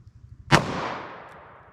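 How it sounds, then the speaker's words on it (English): One sharp, loud report from a 3-inch revolver firing a .38 Special 125 grain Winchester semi-jacketed hollow point into a ballistic gel block outdoors, followed by a decaying echo. "So let's hit our ballistics gel block with these and see how they compare."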